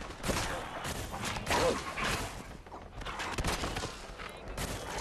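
Gunfire in a Fallout 4 video game fight: repeated loud, sharp bursts of shots with some game sounds mixed in.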